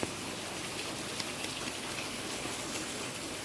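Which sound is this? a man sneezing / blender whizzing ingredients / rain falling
rain falling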